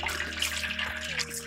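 Cold tap water runs steadily over freshly cooked vegetable noodles to rinse and cool them, a continuous close splashing pour with a low hum beneath it.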